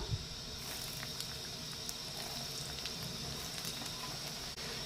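Ginger pieces sizzle steadily in hot oil in a pan while a ginger pickle is made, a close, continuous hiss and crackle that holds fairly even throughout.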